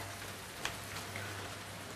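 Rain falls in The Last of Us Part II as a faint, steady hiss, with a few brief drop taps over a low background hum.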